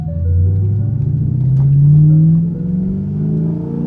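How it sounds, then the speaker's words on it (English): A car engine revs up and eases off while gears are shifted, a loud, close rumbling drone rising in pitch and then settling, with no talking. "Clutch in, second gear. Off the throttle, clutch in, third gear."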